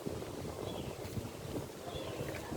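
Steady wind rushing and buffeting against the microphone outdoors in Bulacan, a continuous broad roar with no talking.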